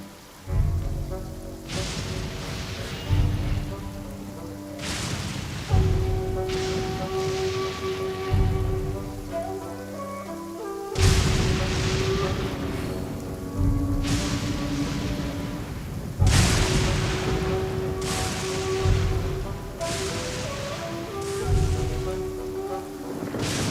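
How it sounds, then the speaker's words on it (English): Rain with occasional thunder rolls in the video game Genshin Impact, a steady wash of falling water beneath layered game music that rises and falls in bursts. "It's raining?"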